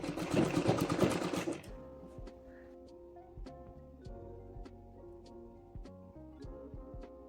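A sewing machine stitches the neckline facing of a pleated kurti, a steady, moderately quiet mechanical whir with regular needle ticks after a voice speaks at the start.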